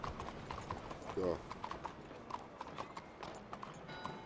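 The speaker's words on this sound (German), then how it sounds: "Du musst doch schon mal stehen bleiben, wenn da ein Pferdchen angeritten kommt" Horse hooves clip-clop in a Red Dead Redemption 2 town street, soft rhythmic steps under background ambience, with a brief whinny and a short spoken word.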